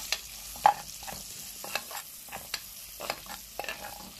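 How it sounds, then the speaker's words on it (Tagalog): Onions sautéing in a pan for misua soup, with soft sizzling and repeated sharp stirring scrapes and taps of a utensil against the pan, close and moderately quiet, with no talk. "gigisahin ko muna. Tapos diretso nang lagyan natin ng sibuyas."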